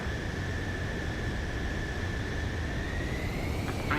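An F-14A jet in Ace Combat 7 approaches to land, its engine a steady whining drone under a smooth airy rush, the tone lifting slightly near the end.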